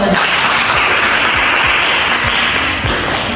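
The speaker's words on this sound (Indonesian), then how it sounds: "kasih tepuk tangan" Classroom applause from a group of students, a dense steady patter of clapping filling the short stretch at close range with no talk over it.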